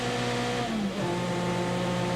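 A TVR Tuscan race car in a 1995 one-make series sweeps past on track, its engine note dropping as it goes by amid steady engine roar from other cars, with no talk.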